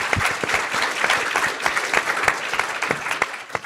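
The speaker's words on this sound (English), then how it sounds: "I just want to give him one more round of applause" Applause for a speaker at a legal-access forum on recovery and reentry, a room of people clapping steadily and fairly close, crisp individual claps forming a continuous ovation with no voices over it.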